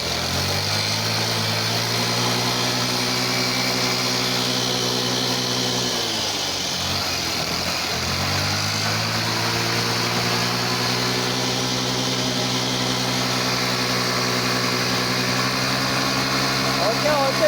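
Farm vehicle engine held at steady high revs in gear, a loud continuous droning hum that dips briefly in pitch midway, then climbs back and holds level.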